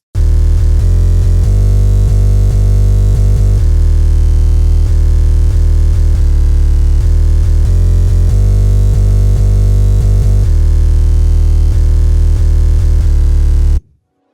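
Deep 808 bass rumbling through a dense, loud hip-hop beat, heavy low end sustained nearly continuously under layered percussion until it cuts off sharply near the end, with no voices.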